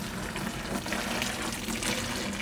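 Boiling water is poured from a container into a bucket of coco coir, a steady, dense rush of liquid that is close, loud and continuous.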